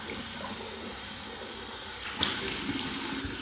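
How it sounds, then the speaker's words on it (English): Tap water runs steadily into a sink, a continuous close splashing rush with a slight surge partway through. "Here's my warm water rinse."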